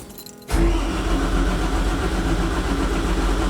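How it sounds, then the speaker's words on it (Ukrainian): A ZIL truck engine with a starter cranking sets in abruptly after a short quiet start, a loud, steady churning drone that keeps turning over without catching. "Тиск масла наганяє а двигун ще й не заводиться."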